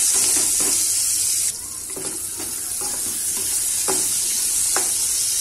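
Small capsicum pieces fry in hot oil in a kadai, giving a steady bright sizzle with occasional soft stirring scrapes and clicks, close and moderately quiet, with no voices.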